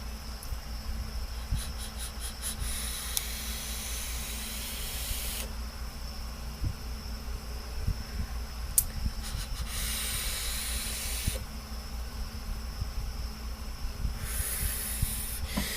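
Vaping on a Vandy Vape Bonza squonk RDA: long, steady airy draws with broadband hiss, broken by short pauses, close and moderately loud, with no talking.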